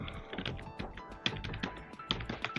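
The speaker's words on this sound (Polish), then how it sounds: "bo jakby słychać u mnie klawiaturę" Computer keyboard keys typed rapidly during a Friday Night Funkin game stream, a dense run of close, crisp clicks and taps with a few louder key strikes, and no talk over it.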